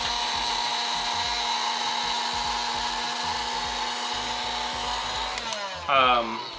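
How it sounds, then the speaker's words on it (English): A small handheld vacuum cleans coffee chaff from an Aillio Bullet coffee roaster, humming with a steady motor drone broken by irregular knocks and bumps, then cuts off with a louder clattering burst near the end. "Now you might just want to use your house vacuum, but this works okay for chaff."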